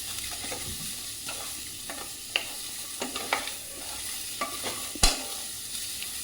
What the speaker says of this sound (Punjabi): ਲਸਣ ਅਦਰਕ ਸਾਰਾ ਕੁਝ ਪਿਆਜ਼ ਇਸ ਤਰੀਕੇ ਦੇ ਨਾਲ ਬਰਾਊਨ ਕਰਾਂਗੇ ਆਪਾਂ